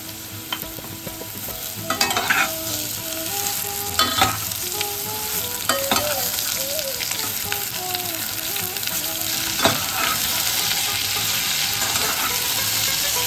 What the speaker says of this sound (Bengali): এবার আমি ঝিঙেটা দিয়ে দিচ্ছি।